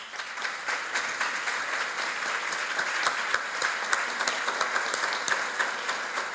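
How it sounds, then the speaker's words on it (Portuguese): A conference audience at a veterinary antimicrobials event in Argentina bursts into steady, dense applause. The clapping is moderately distant and continuous, with no talking over it. "yo quiero pedir un especial aplauso para él"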